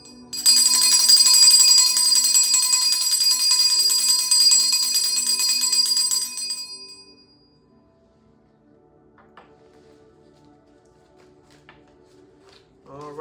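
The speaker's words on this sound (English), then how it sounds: "may it be released by the ring of this bell" A bell rings out loud and sustained during a live tarot reading, its bright ringing tone lasting about six seconds before decaying into near silence with faint ticks.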